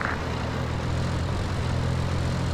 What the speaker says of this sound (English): Charlie, your Reaper's here.